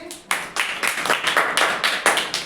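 Sharp hand claps in a quick, fairly regular rhythm, about a dozen distinct slaps following one another closely and loudly at close range.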